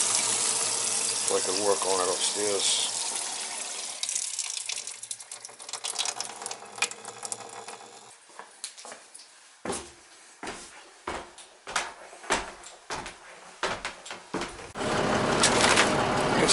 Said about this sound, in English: There's a sink down here. We'll open it and let the water come down here,